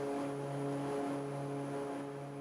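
Airplane cruising over Arizona near Rainbow Bridge, a steady close propeller engine drone with a constant low hum filling the whole stretch.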